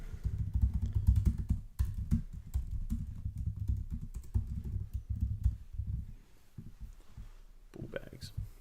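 Someone types on a computer keyboard. Rapid clusters of close, crisp key clicks repeat irregularly over a low murmuring voice, then thin out toward the end.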